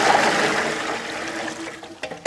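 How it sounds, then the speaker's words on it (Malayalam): Water is poured into a cooking pot for a large deer curry cooked outdoors in a village. It makes a steady, close splashing rush that thins out, ending with a few small knocks. "കുറച്ച് വെള്ളം ഒഴിച്ചു കൊടുക്കാം."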